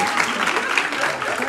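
An improv comedy audience applauds in a dense, steady burst of clapping that fills the room at an even level throughout.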